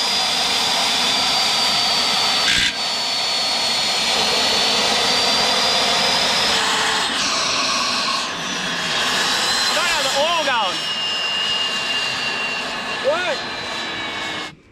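A turbojet engine roars continuously at close range with its restrictor removed, a loud broadband blast with a high whine that sweeps slowly in pitch, holding steady for the full length before cutting off abruptly at the end.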